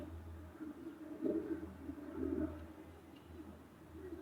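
Barishal flying pigeons kept at a home loft coo softly, with two low, rolling coos about a second apart heard faintly against quiet background noise.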